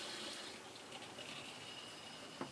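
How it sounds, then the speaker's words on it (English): Homemade Guinness clone beer poured into a glass, a soft, faint liquid splash and gurgle that runs the whole time and ends with a small knock. "So there's my Guinness clone, so let's have a little pour out."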